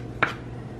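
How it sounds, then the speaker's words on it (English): A knife rough-chops red onion, giving one sharp chop against the board over a faint steady background hum. "I know how to cut better than this, I swear, but like I said, I'm just rough chopping."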